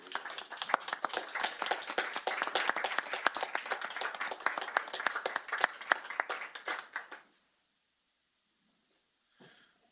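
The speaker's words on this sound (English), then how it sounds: "I'm going to stand up and give him some applause if that's okay with you." Clapping at a board of supervisors meeting, a group applauding for about seven seconds with dense, fairly close claps, then stopping abruptly into near silence.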